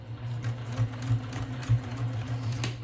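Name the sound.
sewing machine stitching purse strap onto fabric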